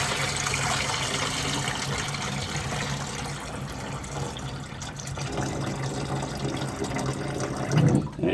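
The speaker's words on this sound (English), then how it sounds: "you just dump out that cloudy water" Cloudy water pours out of an aquarium tank in a steady gushing stream, filling the scene with broad splashing noise that thins toward the end before a brief heavier splash.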